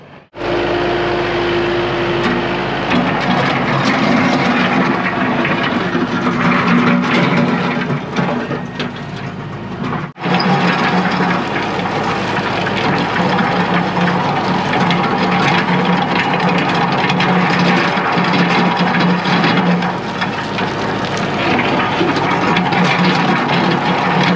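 Ford F750 dump truck engine running steadily and close while it tailgate-spreads gravel on a driveway repair, a low continuous rumble with mechanical clatter and a brief dip partway through.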